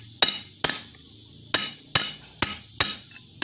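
Six sharp metallic hammer blows strike a brake caliper piston to drive it back in during a brake cleaning job. They land close and distinct, spaced roughly half a second apart, with no talk.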